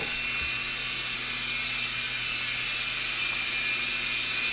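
A small Blade mCX remote-control toy helicopter's motor and rotor whine steadily, a high, constant buzzing hum with no pauses.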